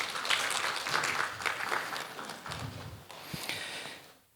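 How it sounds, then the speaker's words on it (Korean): A church congregation claps to welcome the children at a Sunday worship service, a soft, diffuse applause that fades out toward the end. "우리 애들을 박수로 맞이해줄게요."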